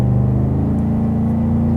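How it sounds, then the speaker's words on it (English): A 2021 GMC Sierra Denali pickup with a performance exhaust gives a steady low droning hum from inside the cab while cruising, loud and constant, with no talking. "Now this does have the performance, so the droning of the exhaust"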